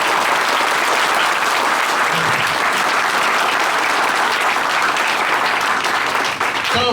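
A hall audience at a Medwin gathering claps loudly and continuously for seven seconds, a thick even roar of applause with a brief voice breaking through partway.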